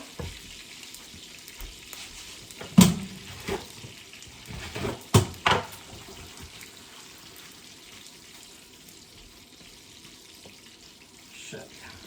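Food frying in a pan on a stovetop, with a low steady sizzle under a few louder clattering knocks and scrapes of utensils, while a voice speaks quietly.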